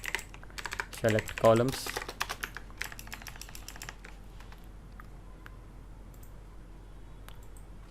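Typing on a computer keyboard while building a DAX formula in Power BI, bursts of quick close clicks that thin out to sparse taps, with someone talking over them.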